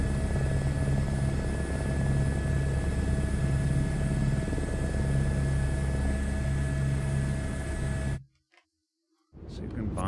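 The rotor of an H125 helicopter in a flight simulator video game drones steadily with a constant whine and rhythmic low thrum, then cuts abruptly to near silence before a brief return of sound at the end.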